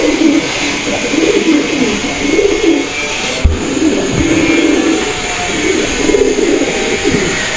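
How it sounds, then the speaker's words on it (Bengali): A male Rajgolla pigeon coos repeatedly in a steady, rolling rhythm, close and loud, with a constant background hum throughout. "আর নরটাও কিন্তু মাশাআল্লাহ অনেক সুন্দর ডাকের নর"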